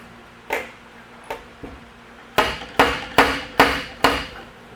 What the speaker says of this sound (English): you guys can tell I'm not just hammering on that thing super hard